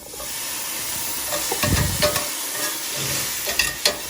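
Garlic cloves and broccoli frying in a little oil in a pan, a steady loud close sizzle with a few stirring scrapes and clacks, no voices.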